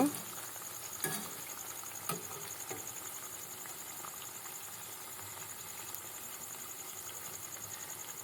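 Nimki pastries fry in hot oil in a pan while being flipped, a steady fine crackling sizzle with a few soft clinks of the utensil early on, continuous and fairly quiet.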